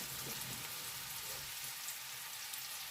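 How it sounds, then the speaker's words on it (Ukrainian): Pork cracklings fry in a pan on a gas stove, giving a steady, quiet, even sizzle and crackle that runs throughout with no voices. "І нехай засмажечка смажиться"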